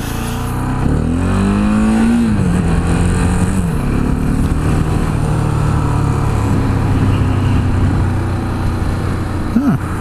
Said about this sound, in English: Just listen how crappy the stock exhaust sounds.